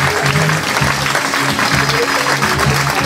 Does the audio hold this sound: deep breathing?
no